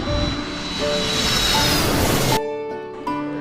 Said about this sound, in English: A for aeroplane.